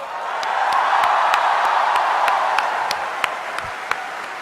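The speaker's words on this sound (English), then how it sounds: "Let us give him a standing ovation and a warm applause." A conference audience at a management conclave gives a standing ovation, a broad, sustained wash of clapping that swells and holds steady, with a few sharper individual claps popping out near the end.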